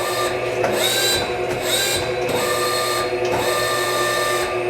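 An American-made Betenbender model 8-50 hydraulic press brake, 50 ton by 8 feet, runs with a steady loud mechanical whine and hum, layered with rising and falling tonal sweeps as the ram cycles, no voices.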